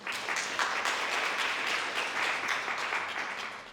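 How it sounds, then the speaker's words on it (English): Audience applause at a food innovation summit, a steady wash of many hands clapping at moderate distance for a few seconds with no talk over it. "I think this also deserves applause."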